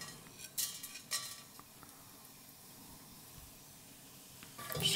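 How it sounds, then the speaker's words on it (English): Whole spices stirred in hot avocado oil in a pot, a few soft clinks of a spoon against the metal rim over a quiet, faint sizzle, with another brief scrape at the end. "Just give it a quick stir."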